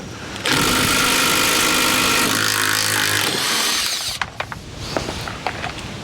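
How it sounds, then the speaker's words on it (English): A power drill runs loud and steady for several seconds, its motor pitch shifting slightly, then stops, followed by a few sharp clicks and knocks, during water pump work on a John Deere 4045T engine. "We're already set up down here with the drill"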